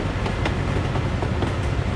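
Steady low rumble and rolling rail noise of a train being driven in a train simulator game, continuous and fairly loud, with faint periodic clacks over the drone.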